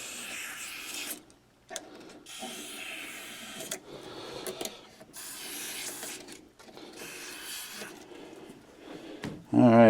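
Cleaner sprays into the mechanism of a TEAC A-170S cassette deck in long hissing bursts with short breaks between them, close and fairly loud, and a brief clunk at the end.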